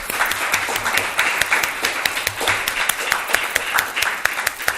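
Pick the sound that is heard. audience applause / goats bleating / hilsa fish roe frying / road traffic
audience applause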